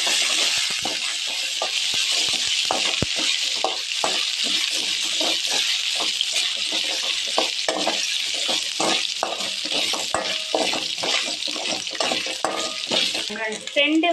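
Continuous hissing sizzle of dried chillies and coconut frying in hot oil in a pan, with occasional light scrapes and clinks of a stirring utensil.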